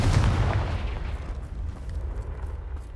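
Confringo fire spell blasting in Hogwarts Legacy near a Thestral nest: a loud booming explosion at the start, its low rumble decaying and lingering throughout.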